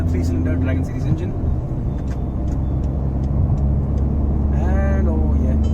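A Ford Freestyle with a 1.2-liter three-cylinder Dragon petrol engine drives along, its steady low engine and road drone continuous and fairly loud throughout, with a brief horn-like tonal call near the end.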